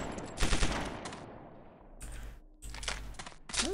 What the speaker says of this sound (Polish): Dość śmieszny na dźwięk strzału.